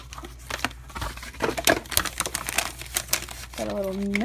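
A LEGO mail package is cut open and unwrapped nearby, giving continuous crinkling and rustling of packaging with scattered sharp crackles and a short voiced tone at the end.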